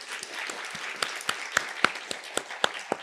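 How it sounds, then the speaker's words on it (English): Moderate audience applause at a university talk for the Dean's Office staff, scattered claps with a few sharp nearby hand slaps standing out over a soft, fairly quiet wash. "So big round of applause for all of them."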